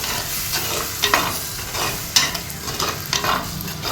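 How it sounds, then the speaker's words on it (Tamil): Ground tomato paste sautéing in a pan for prawn thokku, a close, steady sizzle with repeated scraping stirs of a spoon at irregular intervals, no voices. "இதே நல்லா பச்சை வாசனை போகிற அளவுக்கு வதக்கிக்கோங்க"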